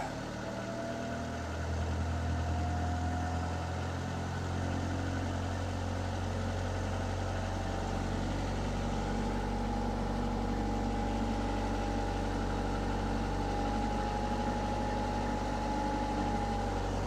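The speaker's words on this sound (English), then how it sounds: "I'm going to bring the RPM up now" A cold-started engine keeps running at a steady idle before its speed is brought up to about 1500 RPM, producing a continuous low droning hum close by with no talking.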